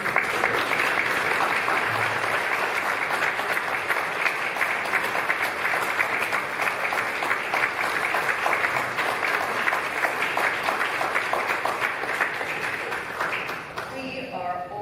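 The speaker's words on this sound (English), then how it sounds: "please stand up and have a round of applause" Sustained, dense applause from a standing audience at a community award celebration, steady and loud for about fourteen seconds before thinning slightly at the end, with some voices mixed in.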